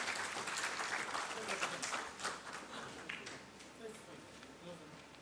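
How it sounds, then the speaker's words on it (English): Audience applause at an art programme launch at Kempegowda International Airport in Bengaluru, a steady wash of clapping from a crowd that stays fairly even and distant over several seconds, with faint voices mixed in. "Can we give them a big round of applause"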